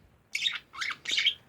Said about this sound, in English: Cutest budgie bird.